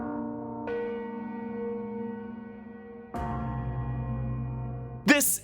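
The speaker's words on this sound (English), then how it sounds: "we open with the sound of the Ferrix anvil gong" The Ferrix anvil gong from Star Wars Andor, a metallic clang struck three times, each strike ringing on with a long, bell-like resonant decay, loud and close.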